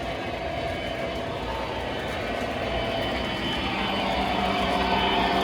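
A heavy freight train led by an SD70 series locomotive rumbles past nearby, a steady broadband roar of engine and rolling wheels that builds slightly toward the end, with no talking.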